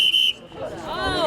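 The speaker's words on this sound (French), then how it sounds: "Un petit coup de sifflet." A whistle gives one short, sharp, piercing blast at a public transport march in Billom, then cuts off into the murmur of a gathered crowd chattering outdoors.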